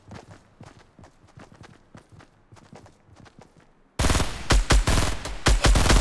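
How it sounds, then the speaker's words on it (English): Fortnite gunfire: a patter of quieter shots at first, then louder, denser bursts of gunfire in the second half, with no talking. "And now they're shooting a rock where they couldn't have seen someone."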